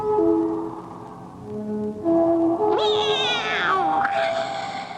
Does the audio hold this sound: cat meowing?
yes